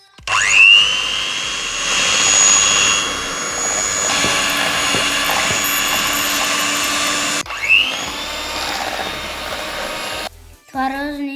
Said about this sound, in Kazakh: Творожный сырымызды сарамыз. Миксер дейміз.